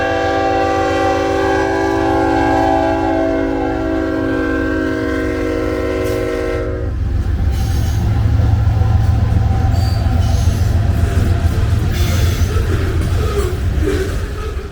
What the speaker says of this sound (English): The iron horses for this train is CN 3863 and 2969, as well as CP 7044 dead in tow